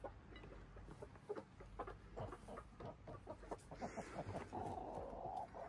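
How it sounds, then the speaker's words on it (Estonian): A flock of hens and roosters clucks busily while eating porridge. The chatter is close and continuous, with overlapping clucks throughout. "Kes on Eesti kõige ilusamad kanad ja kuked?"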